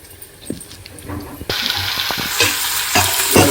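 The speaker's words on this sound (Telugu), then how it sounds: "పచ్చిపప్పుని ఇలా కొద్దిగా వేయించుకుంటున్నాను" Raw lentils are dry-roasted in a pan and stirred with scattered scraping knocks of a spoon. A hissing sizzle swells and grows louder from midway onward.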